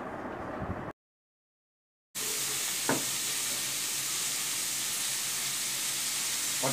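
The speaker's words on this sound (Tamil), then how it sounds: "இப்படியே ஒவ்வொரு காய்கறியாக சேர்த்து வதக்கிட்டு இருந்தோம்னா" Vegetables such as white pumpkin sauté in a pan for Pongal mixed kuzhambu, giving a steady broad sizzle and hiss, broken by a short silence and a faint clink partway through.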